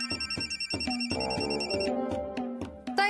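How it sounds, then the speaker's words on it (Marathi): A phone rings indoors in a Marathi TV drama scene. Its bright electronic ringtone repeats in loud, steady pulses with a melodic pattern, close and alone, with no talking. "मावशींचा फोन आलाय."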